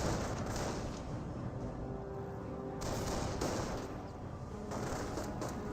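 Rifle fire from Company of Heroes riflemen engaging Panzer Grenadiers, a dense continuous crackle of shots with occasional heavier booms, loud and steady throughout with no talking.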